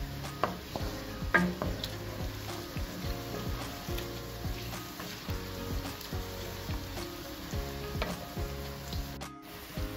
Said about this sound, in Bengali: এখন আমি দিয়ে দিব কয়েকটা শুকনো মরিচ।